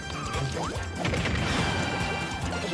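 A loud explosion lands during a Super Smash Bros. Ultimate tournament match between Inkling and Villager, a dense crashing burst with scattered clattering hits trailing off under continuous game noise.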